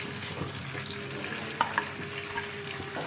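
Prawns fry in hot oil in a pan for a steady, close sizzle, with a few light clicks partway through and no talking.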